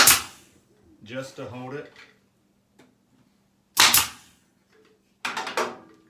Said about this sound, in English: just put a few 3/4 inch brads in here